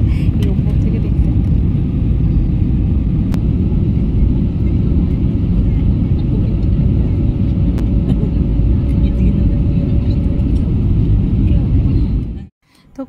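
A passenger airplane lands at Kolkata, heard from inside the cabin as a loud continuous engine and rolling rumble with a few thumps, then a sudden drop at the end.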